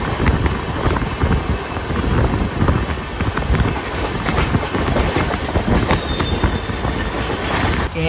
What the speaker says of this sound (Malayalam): ഗുരുവായൂർ എറണാകുളം പാസഞ്ചർ വരുന്നുണ്ട്.